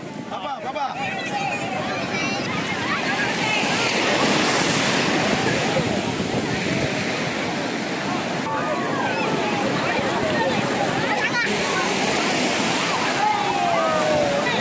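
Sea waves roll in continuously at Tharangambadi beach, a loud, steady wash of surf mixed with wind buffeting the microphone, with faint crowd voices in the background.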